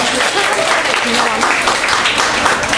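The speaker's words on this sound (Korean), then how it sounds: "두 분께 다시 한번 큰 박수 부탁드립니다." Loud, dense applause from a concert audience fills the whole stretch, steady and close, with a few voices mixed into the clapping.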